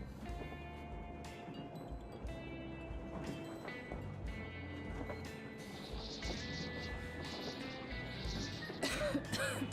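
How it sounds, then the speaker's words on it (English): Several throaty coughs and throat clearing break out amid quiet ambience in the game Metro Exodus, with clattering and rumbling underneath. "Damn coughing."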